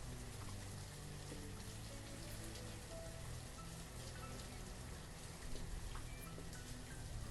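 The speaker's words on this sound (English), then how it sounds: "And this is wintertime in the Mediterranean, very rainy." Steady rain in the video game Banished during a rainy Mediterranean winter, a continuous soft patter and hiss that holds evenly and swells slightly near the end.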